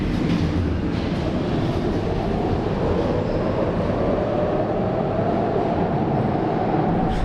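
A Budapest metro train rolling through a tunnel, heard from inside the car: a loud, continuous low rumble with rattling wheels and a rising whine, steady throughout with no talk.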